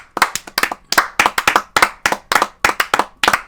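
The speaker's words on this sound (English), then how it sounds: "Round of applause, please." A small group claps in a podcast setting, sharp separate hand claps in quick irregular bursts, close and crisp with brief silences between them.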